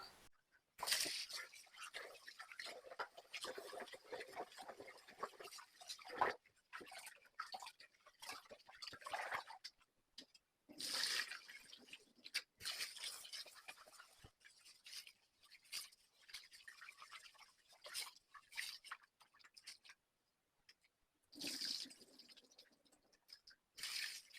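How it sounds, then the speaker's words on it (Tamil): Three cups of rice being washed in water produce bursts of swishing, sloshing and dripping separated by short quiet pauses, close up and fairly soft. "மூன்று கப் அரிசியை இப்போ நாங்கள் வடிவாக கழுவி எடுத்துக்கொள்வோம்"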